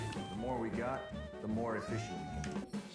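Cat meowing in the Ghostwire: Tokyo video game, two drawn-out rising and falling meows heard close, with a person talking over them.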